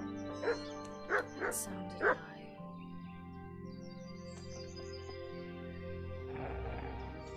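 Four sharp dog barks in quick succession in Kingdom Come: Deliverance, over a steady background hum and music, followed by quieter ambient sound.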